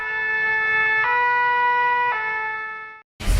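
French emergency vehicle siren: a steady, loud two-tone wail of stacked harmonics, switching pitch twice in a sustained sequence before cutting off, followed by a brief burst of broadband noise.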